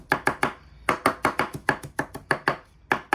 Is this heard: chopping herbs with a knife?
yes